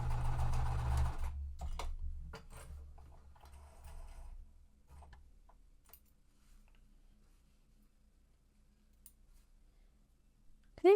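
A sewing machine stitching quilt pieces runs in a short loud burst, then fades to soft scattered clicks and ticks in a quiet room.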